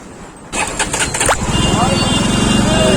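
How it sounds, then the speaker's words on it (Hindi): Jawa motorcycle engine on a jammed city road, starting with a sharp burst and then settling into a close, loud, rhythmic thumping idle that revs slightly, with a brief voice near the start. "खींचते हैं बाइक को।"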